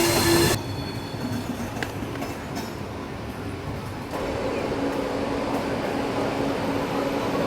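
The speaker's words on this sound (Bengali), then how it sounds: "আজ কিন্তু মালতী পাতপুরে ট্রেন দাঁড়ায়নি, ক্রস করে চলে এসছে, আমরা পুরী স্টেশনে ঢুকছি।" The 12837 Howrah Puri Superfast Express, heard from inside a general coach, rolls into Puri station with a steady rumble of wheels on rail and faint squeals, loud and continuous with a brief louder burst at the start.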